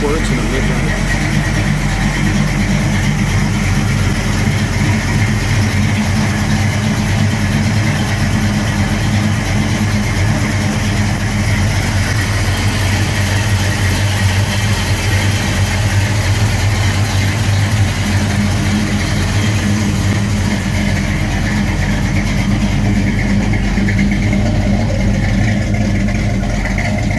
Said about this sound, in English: let's listen to it run